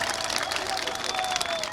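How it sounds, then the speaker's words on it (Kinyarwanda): Crowd at a political rally in Burundi applauding, steady dense clapping with murmuring voices and a faint whistle-like tone running through it. "Mumukomera amashi turabe."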